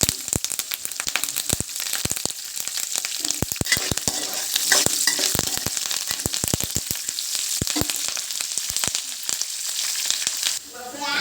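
Curry leaves fry in hot oil with a loud, continuous sizzle and dense crackling pops, close and unbroken for several seconds with no talking.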